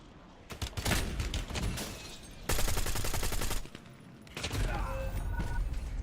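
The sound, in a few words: pistol gunfire in the video game Call of Duty Warzone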